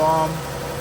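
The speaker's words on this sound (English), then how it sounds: "engine is running." A 2016 RAM ProMaster van runs after an engine swap, a steady idling hum with low rumble that starts slightly louder, then settles and continues evenly.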